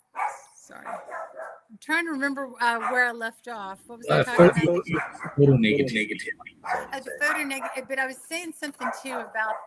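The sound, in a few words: dog barking at someone outside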